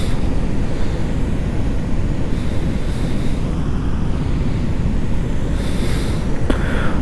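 Strong, steady rush of water pouring over Kodiveri dam, a broad continuous roar close by with some wind buffeting the microphone and a brief sharp click near the end.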